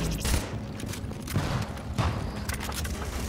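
Bursts of rapid gunfire crackle in The Division, with quick volleys and mechanical clatter, fairly loud and close.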